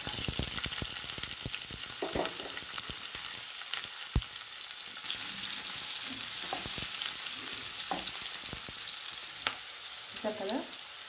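Chopped onions and green chillies fry in a pan with a dense, continuous sizzle, joined by intermittent scraping and stirring clicks, close and fairly loud with no talk.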